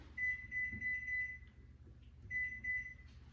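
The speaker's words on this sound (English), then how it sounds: "Kitchen timer is set." A kitchen timer beeps in quick repeated bursts, a run of four short tones, a pause, then two more, fairly quiet against a low background hum, set while sourdough panettone bakes in the oven.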